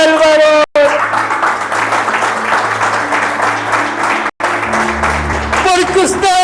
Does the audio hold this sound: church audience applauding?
yes